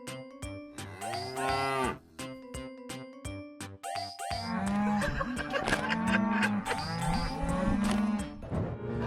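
A cow moos repeatedly and close by, first a few separate drawn-out calls with rhythmic clicking between them, then a longer, louder stretch of overlapping lowing.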